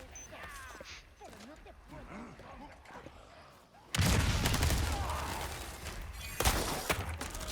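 Gunshots in the video game Resident Evil 4 Separate Ways arrive as a sudden loud blast and a heavy burst of noise, with another sharp shot following, after a quieter stretch of game ambience and a person talking.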